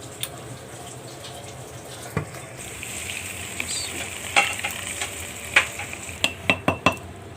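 Panjiri ingredients roast in a pan while being stirred, a close steady sizzle with a string of sharper scrapes and clinks from the spoon growing more frequent toward the end.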